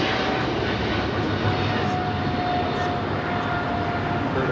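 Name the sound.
British Airways Boeing 777-300ER taking off at LAX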